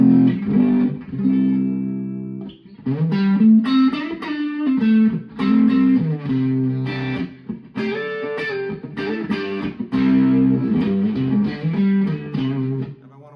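Electric guitar played through an amp with an overdrive pedal engaged and the level boosted high, producing thick, distorted chords and riffs with short pauses between phrases.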